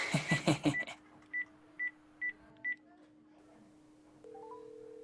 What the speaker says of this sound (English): I'm going to go make a few important phone calls.